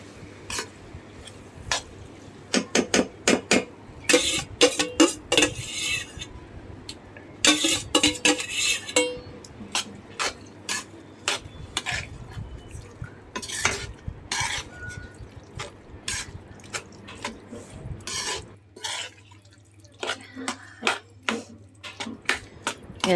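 Cooked mutton tipped into fried masala and onion on a wood-fired chulha, stirred with clattering metal spoon scrapes against the pot, in irregular bursts with quieter gaps and no voices.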